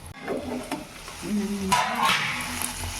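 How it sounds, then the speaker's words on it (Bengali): Chicken kebab pieces frying in a pan, with a steady, soft sizzle and a few light stirring scrapes. "আমি এটা হচ্ছে ফ্রাই করে নেব আস্তে আস্তে ফ্রাইটা হতে থাক"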